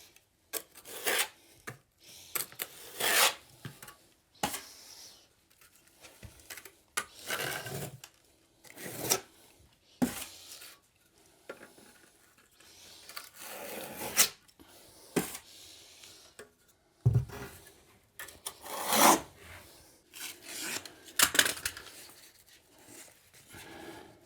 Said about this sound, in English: We're going to use the trowel, hold that joint tape in there.